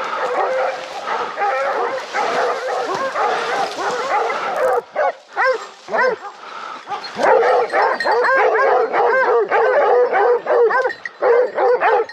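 Hunting dogs bay and bark in rapid, overlapping bursts during a wild boar hunt, loud and close, with yips and whimpers mixed into the excited chorus.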